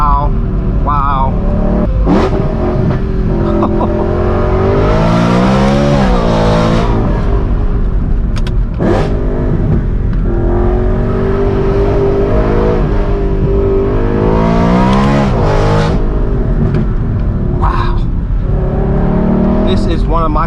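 Straight-piped BMW M3 E92 V8 with a stage 2 Gintani tune, revving hard in repeated rising and falling bursts, loud and close, with people talking over it in places.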